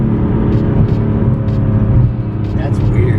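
Lamborghini Aventador V12 engine droning steadily from inside the car during a test drive, a low continuous rumble with small revs and shifts, people talking over it.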